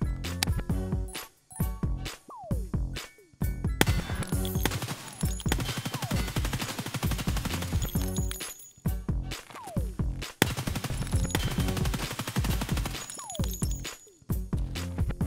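Full-auto gunfire in the video game Escape from Tarkov rattles in long, loud bursts of rapid shots with brief pauses between them and shell-like clinks mixed in, and no one speaks.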